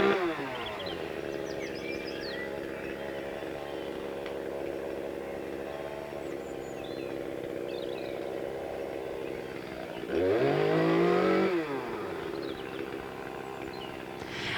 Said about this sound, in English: So the chainsaws were going consistently throughout the day.